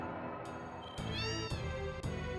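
Cat meows in the Cat House of the video game Final Fantasy VII, several clear, close tonal cries in sequence over a steady game background.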